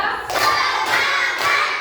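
Rhythmic spirit clapping by a class of students during a morning lesson, sharp bursts of many hands in steady repeated beats, loud and close with no talk.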